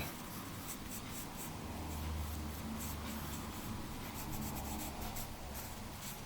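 Pencil drawing an eye in profile, the bulge of the lens sketched on paper: a soft, continuous scratchy graphite rubbing, close and quiet, with repeated short strokes and no voices.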